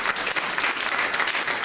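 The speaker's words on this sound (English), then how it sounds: "Please be kind with the applause for Dr." Forum audience applauding, a steady wash of many hands clapping at moderate loudness throughout the short stretch, with no voices on top.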